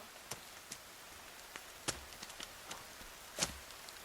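Rain falls in the survival video game The Forest, a faint steady patter with sparse sharper droplet ticks scattered across the clip, no voices.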